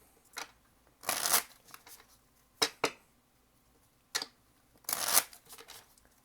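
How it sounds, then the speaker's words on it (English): Cards being shuffled in several quick riffling bursts, crisp and close, with short pauses between each shuffle and no talking. "One more shuffle."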